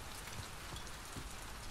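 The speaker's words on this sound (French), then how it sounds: "la séquence de pluie comme ça" Steady rain in a video game during an outdoor sequence escorting Ellie to the Capitol, a dense, even hiss of drops on surfaces that holds constant throughout with no voices.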